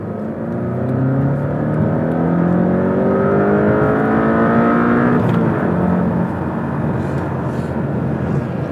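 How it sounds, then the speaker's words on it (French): A Porsche 718 Cayman T with a 2.0-litre 300 hp engine accelerates hard. Its loud, steady engine note climbs through the gears in rising harmonic sweeps, with a brief shift near the middle and no talking. "on va commencer par vous faire partager le bruit du moteur"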